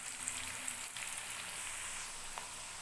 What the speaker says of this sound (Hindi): प्याज को हम थोड़ी देर फ्राई कर लें।